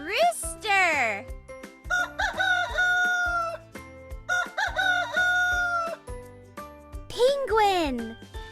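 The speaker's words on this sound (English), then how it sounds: "Rooster." A rooster crows several times, loud and close, each long call rising and falling, set over a bouncy children's music track with a rhythmic beat throughout.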